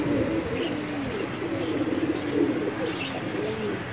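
Pigeons kept for sale coo in low, repeated rolling calls that run through the whole stretch, with a few faint higher chirps above; no one speaks.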